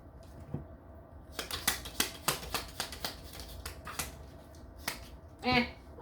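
Tarot card shuffling up close: a quick burst of crisp, riffling snaps and flicks, followed by a short pause and a brief sliding rustle.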